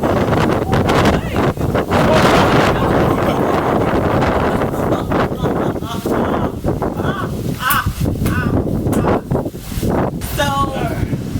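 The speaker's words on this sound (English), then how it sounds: "It is windy." Strong gusty wind buffeting the microphone outdoors in loud rumbling surges, with faint bird calls and a distant honk poking through near the end.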